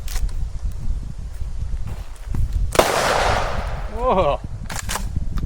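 An explosive round fired during a pig hunt in rural North Queensland goes off with a single loud, sharp bang, followed by a brief crackling tail, set against steady outdoor ambience and a short exclaimed reaction.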